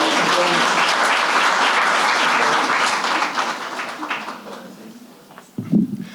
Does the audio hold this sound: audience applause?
yes